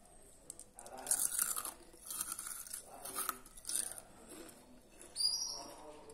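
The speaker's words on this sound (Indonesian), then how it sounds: "Yuk tes kerenyahannya, beneran renyah apa bantet nih?" Several crisp crunching bites into crispy fried chicken close to the mic, each a short burst of crackly noise, with soft chewing in between and no talk.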